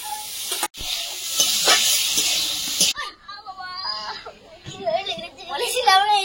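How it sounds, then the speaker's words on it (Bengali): Shrimp fry in hot oil with a bright hissing sizzle that cuts off abruptly partway through, after which children's voices and talk take over. "এই তেলে চিংড়িটা ভেজে নেব।"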